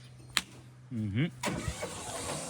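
A car is started up close. The starter motor whirs for a short moment, then the engine catches and settles into a low idle, with a few clicks and a voice nearby.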